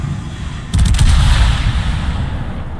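A salvo of armor-piercing shells from the ship Gibraltar in a naval video game hits as one sudden, loud, crackling blast. A heavy rumble follows and fades slowly over the next two seconds.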